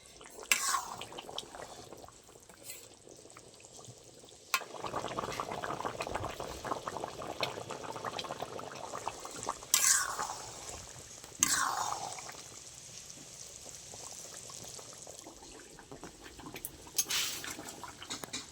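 Covered fish curry with fried fish and three slit green chillies simmering in a pot, a steady bubbling boil with hissing steam and occasional louder gurgles and lid-rattling bursts, continuing for a long stretch without talk.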